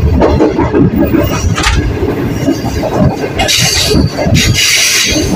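A Green Line train rumbles loudly down a steep downhill track toward Lahore, with grinding, squealing wheel noise and hissing bursts as the brakes bite, no voices.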